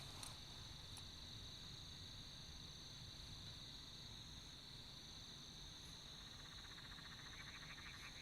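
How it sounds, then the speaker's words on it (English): Common brown frogs croak steadily in an outdoor night chorus, mixed with a constant high insect drone and a few faint clicks, quiet and fairly distant with no voices. "the second I start talking, this frog starts"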